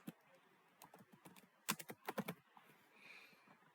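Quiet, close clatter of typing on a computer keyboard, with scattered keystrokes followed by a quick burst of taps, then a soft hum.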